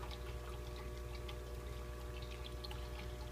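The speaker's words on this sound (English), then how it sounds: "That's where the water's coming out, dumping into the box" Water from an air-powered aquarium filter pours and trickles steadily into the filter box, a constant close bubbling splash with a low hum underneath and no voices.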